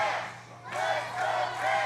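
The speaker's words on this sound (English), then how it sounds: "This crowd coming alive for CASHFLO, former OVW heavyweight champion, national heavyweight champion." Arena crowd at an OVW wrestling show in the Davis Arena cheering for wrestler CASHFLO, a broad roar that swells after a brief dip and stays loud, with a commentator's voice partly underneath.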